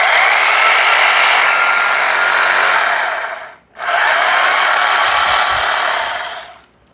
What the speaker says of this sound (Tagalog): ito, hammer drill lang to.